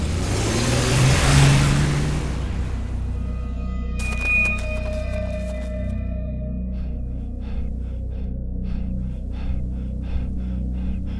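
A car engine rumbles low and steady throughout, close and continuous, with a sharp gasping breath near the start and faint ticking tones layered over the drone later on.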